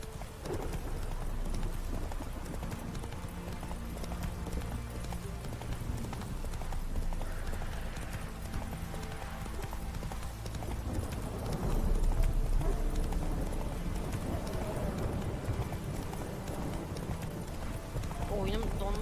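A horse gallops in The Witcher 3 video game, steady rhythmic clip-clop hoofbeats running throughout under someone talking over the game.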